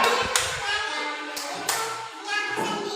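Kindergarten children perform a clapping chant in a classroom, rhythmic sharp hand claps mixed with sung and chanted voices.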